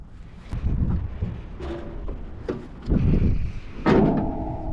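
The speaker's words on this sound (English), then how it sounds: "got to get under hood. It's satisfying how easily that opens." The hood of a 1973 Buick Century with a 350 engine is opened, giving a few close thuds and clunks with a brief metallic creak and latch noise before a final louder knock.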